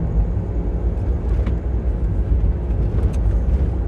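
A manual car drives in third gear at about 30 mph, its engine giving a continuous low rumbling drone with steady road noise, heard close throughout.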